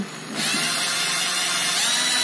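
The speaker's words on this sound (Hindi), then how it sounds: "पावर ड्रिल को मैं चलाता हूँ" A power drill spinning a car alternator switches on and settles into a steady, loud, high-pitched whine that runs unbroken to the end, with no talking.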